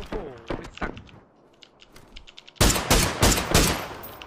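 Gunfire coming from behind in PUBG: a few scattered shots under excited talk, a brief lull, then a loud close volley of rapid bursts.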